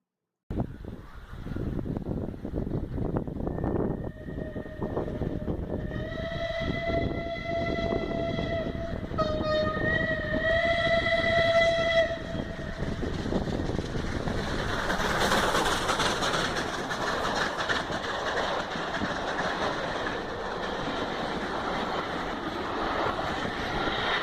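A Southern Railway Bulleid Pacific steam locomotive chugs and rumbles nearby, a shrill whistle sounding for several seconds before heavy hissing steam takes over.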